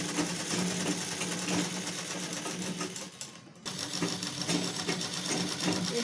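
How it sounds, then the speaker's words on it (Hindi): A sewing machine stitches cloth all around the edges of a small purse, a rapid continuous mechanical chatter that breaks off for a brief moment before resuming just as fast. "चारों तरफ से सिलाई कर लेते हैं।"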